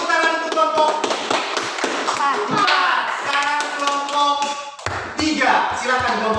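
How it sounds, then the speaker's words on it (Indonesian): Classroom group applause for group 4, a burst of quick, uneven clapping from many hands mixed with children's voices and a teacher talking, with a brief pause before more clapping. "Tepuk tangan untuk kelompok 4."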